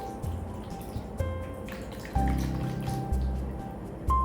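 Water poured into a shallow plant tray for terrarium plants, coming in several short splashing pours with brief pauses between them, close and fairly quiet, with no talking.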